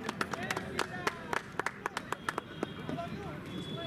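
Scattered hands clap sparsely to welcome the chief guest at an outdoor hockey tournament ceremony, faint and uneven, while someone speaks over a public address system.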